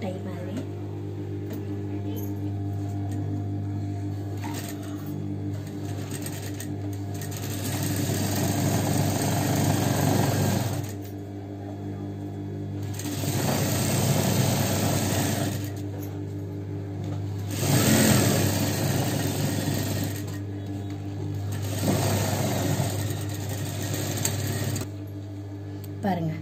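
Sewing machine stitching a kids' balloon frock, running in several bursts of steady mechanical whirring separated by quieter pauses, with a low constant hum throughout and a voice talking over it.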